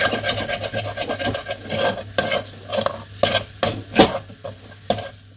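A spoon stirs a spiced peas mixture seasoned with chaat masala and garam masala, giving repeated close scraping and rubbing strokes with a few sharper knocks against the pan.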